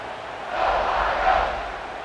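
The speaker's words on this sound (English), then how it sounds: "this crowd is buzzing after that last score" Stadium crowd in the College Football 26 video game on PS5, Ohio State vs. Minnesota, a broad steady roar that swells slightly and stays at a distance behind the action.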